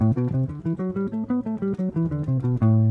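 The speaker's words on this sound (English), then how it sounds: "because if you pluck every note it'll sound like this" A guitar runs through a scale with each note picked separately, giving a distinct, detached attack on every tone.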